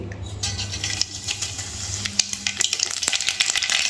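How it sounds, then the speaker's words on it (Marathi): Hot oil crackles, then quick popping and sizzling builds as mustard seeds hit the pan, close and fairly loud. "चला आता फोडणी घालून घेऊ आपण. पहिली टाकणार आहे मोहरी."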